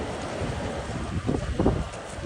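Strong blizzard wind in Long Island City, New York rushes and buffets against the microphone in rising gusts, a loud roaring blast swelling near the end.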